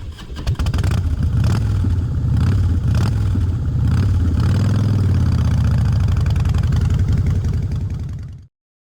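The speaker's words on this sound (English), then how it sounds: "motorcycle," A motorcycle engine runs steadily and loudly for about eight seconds, a continuous rumbling drone that rises slightly in pitch as if revving, then cuts off abruptly into silence.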